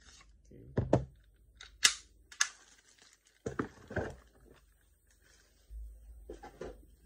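A WE Glock 17 pistol being test-fired gives sharp, snappy cracks spread unevenly over several seconds, alongside mechanical clacks and handling noise, with a voice speaking nearby.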